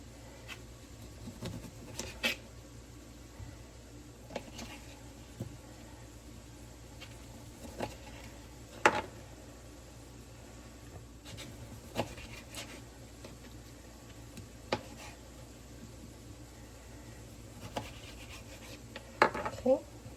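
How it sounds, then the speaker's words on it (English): A knife cuts limes on a cutting board, giving sparse, soft chops and taps at irregular intervals over a quiet kitchen background. "I'm gonna go ahead and cut up some of the lime"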